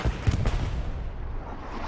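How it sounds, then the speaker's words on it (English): Battlefield din from the video game Hell Let Loose, a competitive match: a dense, rumbling burst of explosions and gunfire rolls out loud and then settles into a sustained low roar. "explosions kill people in trenches everywhere"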